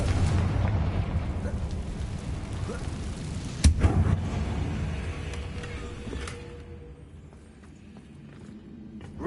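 A Confringo fire spell bursts in Hogwarts Legacy, one sharp explosive crack midway through a dense, rumbling game soundscape, followed by a fading, lower-energy tail.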